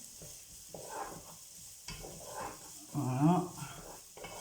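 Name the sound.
onions frying and being stirred in a pan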